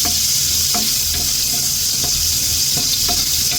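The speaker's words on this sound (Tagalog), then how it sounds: "Ilalagay na natin itong sibuyas." Chopped onion sautéing in a frying pan for a tomato sauté, a steady loud sizzle with faint periodic stirring taps throughout, close up and with no voices.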